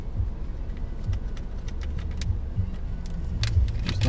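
Steady low engine and road rumble inside a car driving on a road trip to the Hoover Dam, with scattered light clicks and rattles over the drone and no talking.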